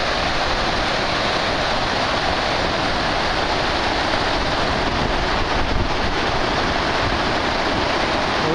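Floodwater rushes over a structure after a storm on the Elan Valley trail, a loud, constant roar of churning water mixed with wind buffeting the microphone, with no pause or change.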